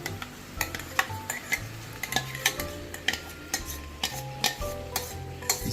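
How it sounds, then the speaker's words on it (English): Whisked curd (dahi) being stirred into a pot of Lucknowi nalli nihari, a spoon scraping and clinking against the metal in a steady rhythm over soft sizzling. "This curd is nicely whisked, and then give it a nice mix"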